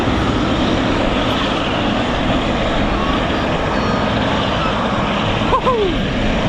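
A Boeing 777 airliner at Manchester Airport roars with a loud, steady, broadband engine rumble that holds strong throughout, close and overwhelming.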